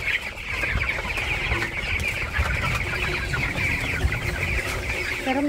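A flock of farm chickens clucking steadily and continuously, close and fairly loud, with no talk over it.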